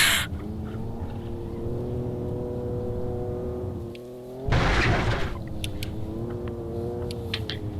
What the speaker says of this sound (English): Why is this thing revving without me doing anything?